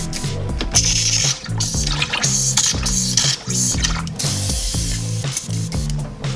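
An airbrush with its needle removed is being cleaned out after painting 3D prints, giving bursts of airy hissing spray that start and stop repeatedly over a steady rhythmic background.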